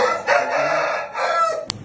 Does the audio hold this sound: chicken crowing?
yes